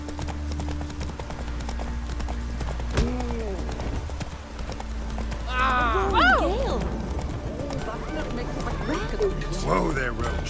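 Hooves of Roach, the horse in The Witcher 3: Wild Hunt, clip-clop steadily at close range over a low ambient bed, while several voices speak over the footsteps.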